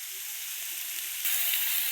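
Soybeans frying in masala in a pan, giving a steady, fairly loud sizzle that swells and turns brighter partway through, heard close up with no voices.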